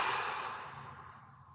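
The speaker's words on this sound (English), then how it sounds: "2 big breaths." A person takes a big, deep breath during a mobility exercise, a soft, close exhale that trails off slowly and stands alone without talk.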